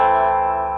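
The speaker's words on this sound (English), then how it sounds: "So with the gain all the way down on the MD1, the metal distortion from Delta Labs, it sounds like this." Stratocaster with 1954 custom shop pickups in the bridge position, played through a Delta Labs MD1 metal distortion pedal with the gain all the way down: a single sustained, harmonically rich chord ringing steadily and loud, slowly decaying.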